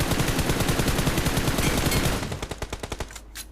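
Automatic gunfire from the BGMI mobile shooter game comes in loud, rapid bursts that fill the opening seconds, then slows into a few spaced single shots before fading.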